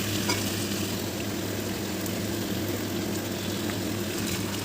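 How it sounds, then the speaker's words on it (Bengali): Water is poured into a pan of browned, spiced meat for biryani, giving a steady, close hiss and bubbling sizzle that holds an even level throughout, with a faint low hum underneath and no talking. "চার বাটি জল দিয়ে দেবো এর মধ্যে"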